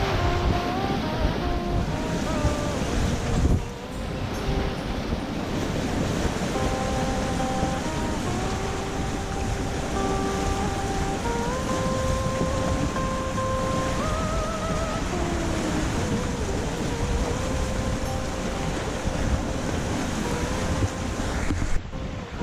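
A sailing yacht beats upwind in 15 to 16 knots of breeze at about 7.5 knots on the Andaman Sea, with a constant rush of wind and water and shifting whistling tones over it.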